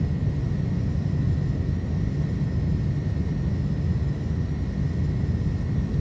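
Engines of an iniBuilds A310 airliner at takeoff power in Microsoft Flight Simulator, a loud, steady low rumble with a faint high whine running through it and no variation.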